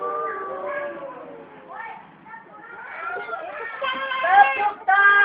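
A group of children imitates a cow's moo in unison during a storytelling session, with several drawn-out, wavering vocal tones that overlap and rise in loudness toward the end.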